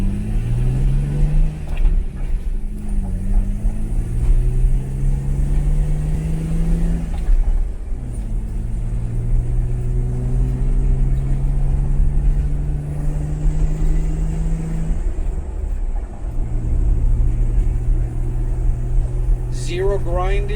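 A car approaches on a road, its engine rumble rising and swelling over the steady drone of a rebuilt Jeep TJ idling nearby, with a person talking throughout.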